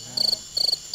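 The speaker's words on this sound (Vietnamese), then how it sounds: "những tiếng vo ve của côn trùng quanh những chiếc bóng đèn" Insects on a summer night, a rhythmic chirping trill in two short pulsed bursts, like crickets, close and clear against a quiet background with no voices.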